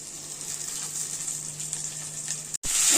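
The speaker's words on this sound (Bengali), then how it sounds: "এটাকে ভালো করে একটু ফ্রাই করে নিতে হবে" Kharkon leaves frying with poppy seed paste in a pan, a steady close hiss of sizzling oil that cuts out briefly near the end before returning louder.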